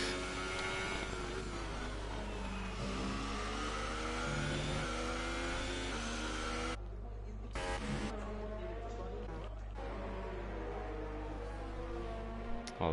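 Formula 1 race cars crowding through traffic on the Russia circuit in the F1 2018 video game, a steady loud engine drone with shifting pitch held throughout, broken by brief cuts, with faint talk underneath.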